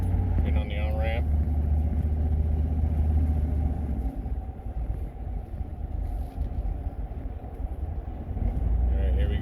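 A 6.5L Detroit Diesel in a 1994 Suburban pulls at about half throttle up an on-ramp, giving a steady, loud, droning rumble from inside the vehicle with road noise.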